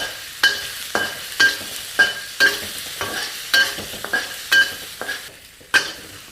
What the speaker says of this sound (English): we're gently frying the sausage here